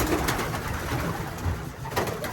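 Long-distance racing pigeons coo in a loft, with soft repeated throaty calls close by over a dense, busy background of fluttering and rustling.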